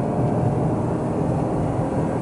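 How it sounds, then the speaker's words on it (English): Steady, droning low exhaust and engine note from a Proton Waja accelerating on a clear highway, mid-range drone with road noise, continuous and fairly loud with no talking. "Let me just treat you to the sound of the exhaust."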